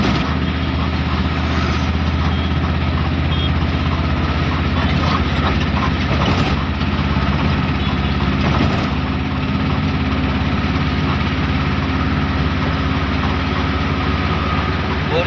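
A truck engine drones loudly and continuously while driving along a national highway, with a couple of brief knocks from the road over the steady mechanical hum.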